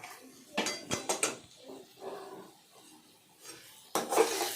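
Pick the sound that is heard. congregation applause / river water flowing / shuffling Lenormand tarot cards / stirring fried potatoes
stirring fried potatoes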